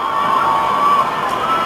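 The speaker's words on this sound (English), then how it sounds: "Crowd going crazy." An arena crowd roars after a boxing match between Terrence Crawford and Raymundo Beltran in Omaha, Nebraska, a steady, distant wall of cheering.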